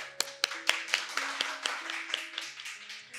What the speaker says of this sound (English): I wish everybody give yourself a big clap again.